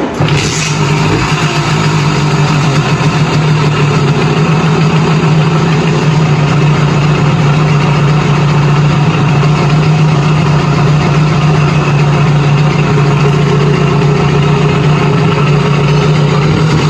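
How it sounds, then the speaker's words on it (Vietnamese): A Simson S51 motorcycle engine catches near the start, then idles steadily at close range with a loud, even low rumble that holds for the whole stretch, no voices over it. "bây giờ mình nổ máy nha các bạn"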